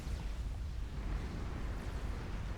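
A deep rumbling explosion in the strategy game Supreme Commander, a sustained low boom with crackling debris over about two and a half seconds, moderately quiet and heard alone.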